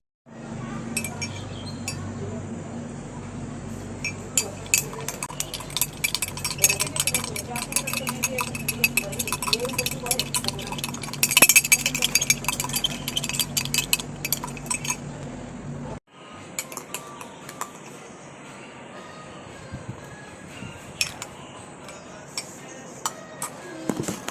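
Frappe coffee being mixed in a lidded glass: repeated clinks and rattles of ice and liquid shaken steadily for about sixteen seconds, loud and close, then a quieter stretch of faint handling.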